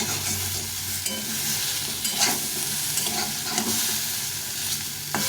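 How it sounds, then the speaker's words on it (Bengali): Fish frying in hot oil in a kadai, with a constant dense sizzle, occasional spatters and scraping, close and steady throughout. "এর মধ্যে মাছটা ভেজে দেব"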